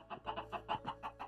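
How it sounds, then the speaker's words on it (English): Several chickens cluck loudly and close by in a quick series of bursts, with no talk over them. "I'm leaving these fucking chickens alone. They're so loud."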